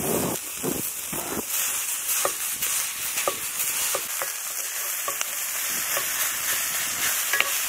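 Meat and onions sizzle in a skillet on an outdoor rocket stove, a steady frying hiss broken by repeated sharp scrapes and clacks of a utensil stirring in the pan, with a faint high whine in the background.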